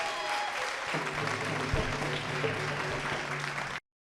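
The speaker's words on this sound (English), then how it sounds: "One more round of applause for Nak, ladies and gentlemen." An audience at a City Hall Indigenous Peoples' Day celebration applauds a dancer, dense clapping and a low hum carrying on for several seconds before cutting off abruptly.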